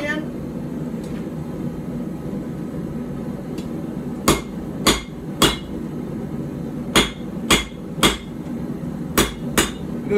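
Hammer blows forging a puukko knife on an anvil ring out in two loud clusters of sharp, metallic strikes over a steady background hum.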